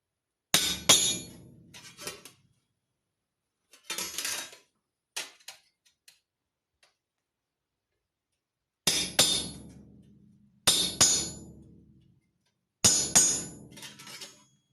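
Hammer blows pushing out spot welds on car sheet metal: a few sharp metallic strikes close by, falling in short clusters with long silent gaps between them, and no speech.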